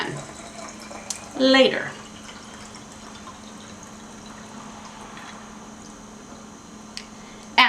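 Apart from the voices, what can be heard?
water filling film development tank for wash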